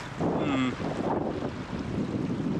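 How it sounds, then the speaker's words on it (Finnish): Strong wind gusting over a fell on a hike in the Käsivarsi wilderness toward Halti in Finnish Lapland, buffeting the microphone as a steady, close rumble with no talking. "Aika kova tuuli on vaan, niin sit vähän ilkeä."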